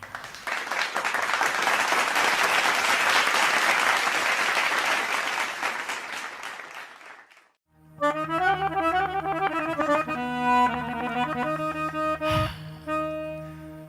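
Loud, dense applause from a large audience for several seconds, fading out before music with a steady low drone begins.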